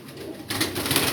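Pigeons of the Kamgar breed, a breeding pair, cooing close by in a short burst that swells louder halfway through, with no talking.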